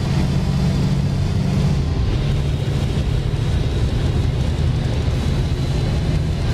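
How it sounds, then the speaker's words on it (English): Truck engine in American Truck Simulator revving back up after a downshift while climbing: a steady, loud, continuous low drone with broadband rumble, unbroken throughout. "We'll drop a gear and get some"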